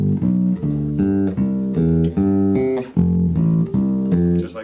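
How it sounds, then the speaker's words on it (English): A plucked bass guitar walks through a steady arpeggio line, roughly eleven evenly spaced notes climbing and falling, played alone at moderate loudness. "So that walking line would sound like this."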